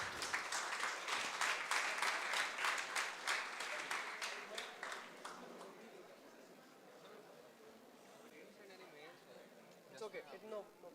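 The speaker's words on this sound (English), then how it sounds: "Guys, a huge round of applause for Team Code Red." Audience applause and clapping for a hackathon team at a live event, loud and dense for the first five seconds, then fading into murmuring crowd noise and talk, with a brief burst of claps near the end.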